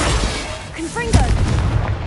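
A Confringo spell blast in Hogwarts Legacy lands with a deep boom and crackling burst, accompanied by short whooshing magical tones, loud and close.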